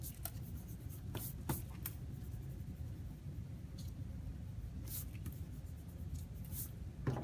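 An eraser rubs across paper on a drawing, faint scratchy strokes in short bursts over a steady low background rumble.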